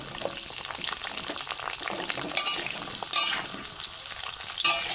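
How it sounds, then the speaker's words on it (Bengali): Pointed gourd (potol) frying in well-heated oil for a potol chingri dish, a steady crackling sizzle with occasional louder pops and stirring scrapes, close and continuous throughout. "তেল খুব ভালোভাবে গরম হয়ে গেছে, এবার আমি পটলগুলো দিয়ে দেব।"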